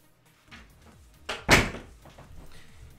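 A house door bangs open with a sharp thunk, preceded by softer handling knocks and followed by faint rattling as a dog named Archound is let outside.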